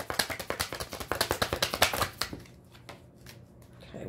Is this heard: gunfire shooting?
no